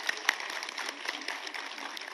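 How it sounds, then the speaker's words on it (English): Applause from an audience at a film festival in Ladakh welcoming a speaker, a dense, even patter of many hands clapping at moderate distance, fairly soft and continuous. "With a huge round of applause"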